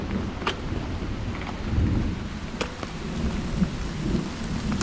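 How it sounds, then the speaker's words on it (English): Thunderstorm with steady rain on the Pacific Crest Trail: continuous hiss of rainfall on surfaces with several sharp, close cracks of thunder, no voices. "looks like some thunderstorms are gonna blow through. Some severe thunderstorms."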